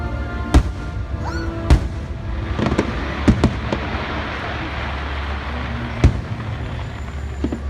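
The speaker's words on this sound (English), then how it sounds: "Watching fireworks at Disney Hollywood Studio, aka MGM." Star Wars themed fireworks at Disney's Hollywood Studios theme park bursting outdoors, with several sharp booms and crackles spread irregularly over a steady crowd murmur, loud and fairly near.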